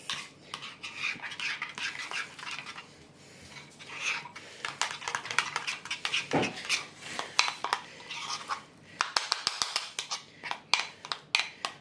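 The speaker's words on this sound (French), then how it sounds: "Du coup, vous mélangez bien tout ça." Ingredients with chives, garlic and bell pepper mixed in a bowl with a utensil, a busy run of clinking and scraping strokes, close and fairly loud, speeding up toward the end.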